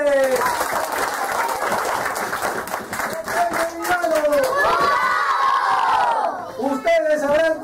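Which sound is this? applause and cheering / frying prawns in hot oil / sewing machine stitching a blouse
applause and cheering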